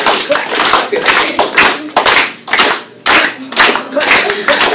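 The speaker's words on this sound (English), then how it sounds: "clap, clap, clap, clap your hands" Children in an exercise class clapping their hands in steady bursts, loud and close, a rhythmic run of sharp claps with brief gaps between groups.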